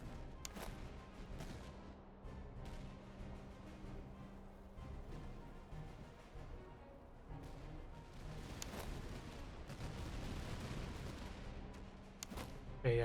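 Distant enemy gunfire in the Master of Command strategy game: a steady, dense crackle of far-off musket and artillery fire rolls on without pause, with a few heavier booms breaking through near the end.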